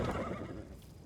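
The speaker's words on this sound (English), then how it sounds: "A cart drawn by a sad little horse appears from around the corner." A sad little horse pulling a cart in Pathfinder: Wrath of the Righteous lets out a brief, close whinny that fades over about a second, with no talk.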